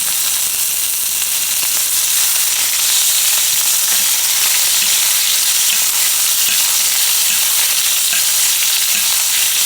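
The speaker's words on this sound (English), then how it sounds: "we're going to add some butter and some rosemary." Steak sizzles and spits steadily in a hot pan with butter and rosemary, a dense, close, continuous frying hiss with occasional stirring or spoon sounds, no voices.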